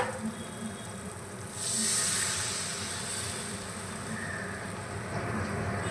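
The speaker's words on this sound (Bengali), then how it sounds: "এবার আমি পরিমাণ মতো জল দিয়ে দেব" Water poured into hot frying masala for a Rajasthani-style papad dish sets off a sudden broadband hiss that swells partway through and then settles into a steady, sustained sizzle, close and with no talking.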